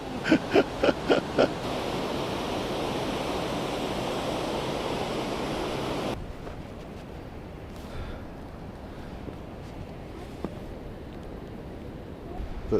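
The glacial Hunza and Nagar rivers in Pakistan's Hunza Valley rush in a dense, steady roar for about six seconds, then the sound drops abruptly to a much quieter, distant wash.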